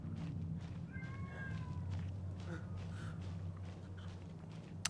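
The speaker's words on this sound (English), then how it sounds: "That is a cat." In the video game Alan Wake 2, a muffled cat gives a few short meows over a low droning ambient hum, with faint soft shuffling sounds around them.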